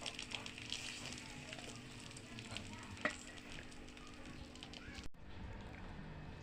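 Fish deep frying in hot oil, a steady crackling sizzle close by, with a few sharper pops and stirring sounds before it suddenly drops away near the end.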